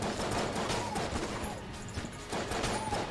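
Sustained bursts of gunfire from the Judge shotgun in Enter the Gungeon, loud and dense with short gaps between volleys and no talking over it.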